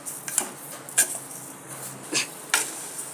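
A spoon knocks and scrapes against a metal pot, four or five clear separate clinks spread over a few seconds, while a raw mango jam mixture is stirred together on the stove, close and fairly quiet with no talking.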